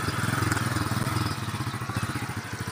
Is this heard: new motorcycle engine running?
yes